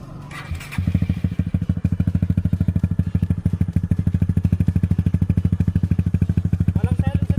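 A motorcycle engine with no silencer in its muffler revs and idles loudly up close, a fast, even, thumping exhaust pulse that runs steadily after a brief clatter at the start.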